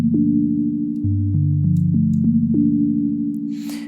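A synth pluck bass plays short, clean notes with a small, short reverb, stepping through a simple line of about seven plucks alone before a faint noisy tail at the end.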